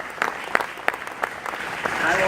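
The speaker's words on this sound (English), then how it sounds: "you should all give yourselves a round of applause" Applause rises at a Westbury Village gathering marking a $10 million New York State grant: scattered individual claps at first, then a fuller burst of clapping, with some voices mixed in.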